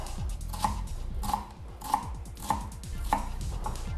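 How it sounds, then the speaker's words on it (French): Knife chopping food on a cutting board while preparing a pork chop with morels, a series of crisp evenly spaced chops about twice a second, close and clear over a low background hum. "Je vais donc la hacher. Pour la hacher, je la coupe donc de cette manière-là."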